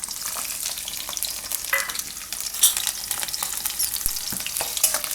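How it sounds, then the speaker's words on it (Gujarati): Whole garlic cloves and green chillies sizzle in hot oil for a Gujarati pumpkin paneer curry, a steady close crackle with occasional scrapes and taps from stirring. "તેલ આપણે ગરમ થઈ ગયું છે, એમાં આપણે નાખશું આ આખું લસણ અને લીલા મરચાં"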